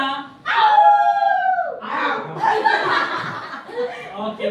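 A human voice imitates a wolf howl with one drawn-out, sliding tone that drops at the end, followed by a burst of laughter and chatter from a group nearby.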